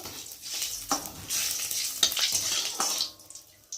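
Cumin seeds crackle and sizzle in hot oil as a tempering for a Bengali fish curry with cauliflower and potato, with steady close frying hiss and occasional stirring scrapes throughout, no talking.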